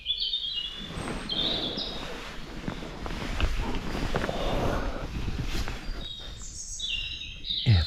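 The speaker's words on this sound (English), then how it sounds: "Birds are singing." Birds sing and chirp at dawn in English woodland, scattered bright calls above a soft bed of ambient rustle and occasional footsteps near a wild campsite.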